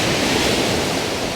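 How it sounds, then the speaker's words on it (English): Ocean surf rolling onto the shore at Talisker Bay, a steady broadband wash of breaking waves with some wind noise, loud and continuous without a break. "just keeping an eye on both the waves"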